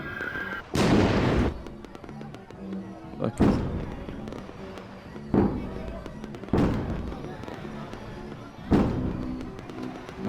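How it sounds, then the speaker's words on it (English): Fireworks burst at a carnival in a horror video game, five loud, booming explosions spaced a couple of seconds apart, each with a crackling tail, while a person briefly speaks. "Nice fireworks."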